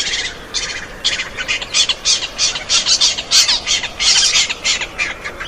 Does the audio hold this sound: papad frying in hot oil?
no